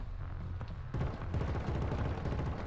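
Gunfire from the shooter game Killzone Shadow Fall, starting with a few scattered shots before settling into a dense, rapid stream of automatic fire with low booming weight. Moderately loud, with no talking over it.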